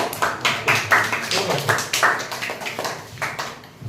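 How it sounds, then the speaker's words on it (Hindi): Students clapping in a classroom during a maths lesson, a moderately sized group giving rhythmic, uneven bursts of hand claps at close range, continuing steadily for a few seconds. "तो सृष्टि और सगुन के लिए तालियां बजा दो एक बार।"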